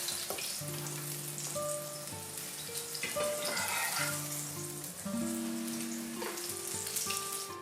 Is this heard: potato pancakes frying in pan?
yes